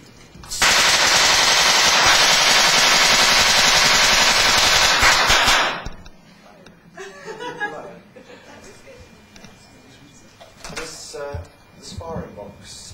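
A special effects firing box sets off gunfire-like charges in a workshop, a loud sustained rapid burst of bangs lasting about five seconds, then quiet room noise with faint talk and laughter.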